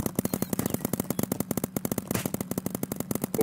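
Rapid paintball gunfire in the Big Paintball video game, a dense, fast rhythmic burst of sharp pops repeating steadily throughout, loud and close with no talk.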